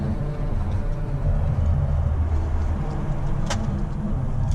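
2018 Mercedes C200 EQ Boost with a 1.5-litre engine cruising, a steady low engine and road drone heard from inside the cabin, with a brief faint squeak near the end.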